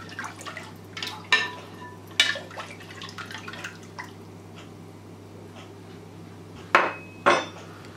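Salt stirred into warm water in a bowl for sweet dahi phulki, with scattered clinks of a spoon against the bowl and small splashy knocks, two sharper strikes near the end, over a steady low hum.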